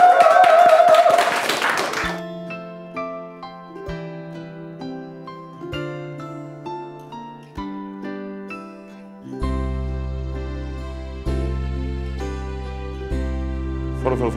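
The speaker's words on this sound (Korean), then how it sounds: "박수!" Office staff burst into a short round of applause that lasts about two seconds, then gives way to sustained piano-like music.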